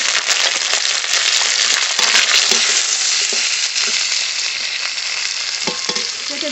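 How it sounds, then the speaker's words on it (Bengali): Fish frying in hot oil with fried whole garlic, a loud dense sizzle and crackle close up, steady throughout with occasional utensil knocks. "রসুন ভেজে নিয়েছি, এবার মাছ দিয়ে দেবো।"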